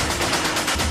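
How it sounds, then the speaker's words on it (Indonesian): Gunfire from a film shootout scene bursts in a dense, loud, continuous volley of rapid shots, filling the moment without any talking. "adegan tembak-tembakan pun tidak bisa terhindarkan"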